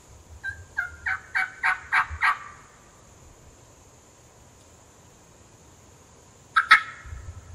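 An Osceola wild turkey gobbles on public land during a hunt. It gives a rapid run of about six loud, rolling gobbles, then one more burst several seconds later, with no talking over it.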